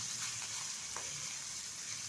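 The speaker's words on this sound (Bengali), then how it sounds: "দেখো মাছ ভাজা হয়ে গেছে" Koi fish frying in oil in a pan, giving a soft continuous sizzle with a faint scrape partway through, quiet and steady with no speech.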